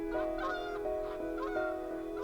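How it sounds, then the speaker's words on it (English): A flock of geese honking over a farm wetland, repeated nasal calls overlapping in an irregular rhythm, fairly faint and somewhat distant, with no voices. "to see a flock of geese or a flock of cranes"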